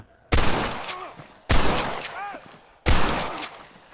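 Three loud, sharp gunshots ring out at roughly one-second intervals in Red Dead Redemption multiplayer, each a close, punchy crack with a ringing tail and a brief whistling ricochet-like tone after it.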